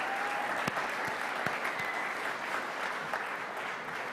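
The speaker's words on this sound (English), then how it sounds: "Let's please give another very large round of applause for all of our recipients." A large audience at a 2022 university alumni achievement awards ceremony breaks into sustained applause for the recipients, a thick, even roar of clapping with a few sharper claps popping out near the front.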